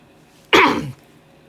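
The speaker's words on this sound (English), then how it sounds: "sorry for the cough." A single sharp, harsh cough bursts out close by, lasting under half a second against near silence.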